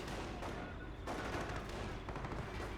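A half-track firing during a Company of Heroes battle, a dense clatter of gunfire and bursts mixed with rumbling battle noise, fairly loud and continuous.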